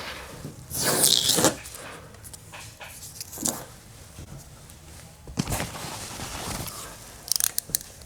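Decal tape being peeled off the body of a 2019-2025 Toyota RAV4, giving a few quiet ripping, crackling pulls in short bursts with soft handling noises between them.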